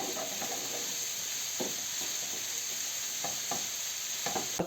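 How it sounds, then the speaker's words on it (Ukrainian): Oil sizzles steadily as onions fry with salt, with occasional scraping stirs cutting through the constant hiss. No voices. "так смажиться"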